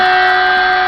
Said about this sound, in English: turn on the spindle.